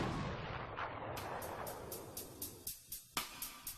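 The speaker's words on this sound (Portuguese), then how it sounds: "Os projéteis disparados por esta arma imitam os detritos de um cometa viajando a velocidades letais." A high-speed gun fires a projectile at the Impact Test Center of the University of Denver, a deep booming blast followed by a string of sharp, regularly spaced echoing cracks.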